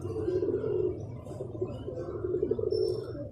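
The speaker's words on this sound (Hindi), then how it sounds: "और गोल्डन कबूतर" Soft, throaty cooing from a golden pigeon of a teddy cross pairing, a few rolling coos in a row, fairly faint and close with no talking over it.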